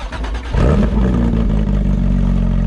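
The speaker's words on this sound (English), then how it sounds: "first time starting up a GT3RS" A Porsche GT3 RS started with a key, first a brief crank and then the engine catching and settling into a loud, steady, throaty idle close by.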